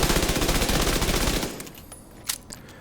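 SMG fire in Tom Clancy's The Division 2, a rapid, loud burst of shots lasting about a second and a half, followed by a few faint scattered pops.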